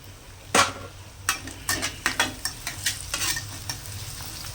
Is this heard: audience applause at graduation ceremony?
no